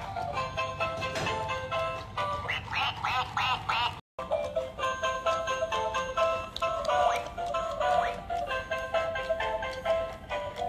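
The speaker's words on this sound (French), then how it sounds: "Regardez ce canard, regardez bien." A duck quacks over and over in loud, close bursts that run almost continuously, with one very brief break partway through.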